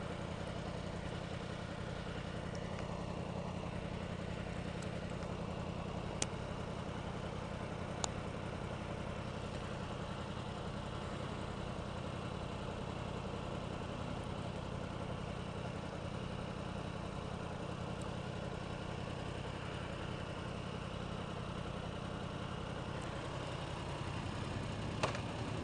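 A Pontiac Sky car idles steadily on its stock exhaust, producing a continuous low engine rumble that holds at a constant level for the whole stretch, with no talking over it.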